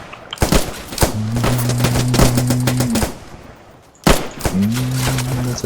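Rapid bursts of automatic gunfire in the Roblox trench-warfare game Trenches crackle loudly and almost continuously, with a steady two-tone hum underneath and a brief lull before the firing resumes.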